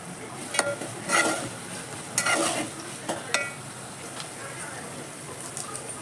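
Chillies fry in hot oil for Hyderabad street-style bagara rice, a steady hiss of sizzling broken by a few sharp stirring scrapes and clinks in the pan.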